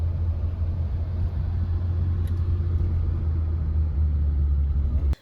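A car driving on a road in Egypt just past a checkpoint gives a steady, loud low rumble of engine and tires from inside the cabin, ending abruptly.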